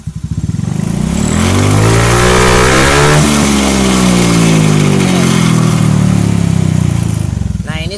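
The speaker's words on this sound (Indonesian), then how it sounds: "Coba digas lagi" A Honda Beat injection scooter engine revs up loud and close from idle, holds a high, buzzing drone for several seconds, then drops back down, with no talk over it.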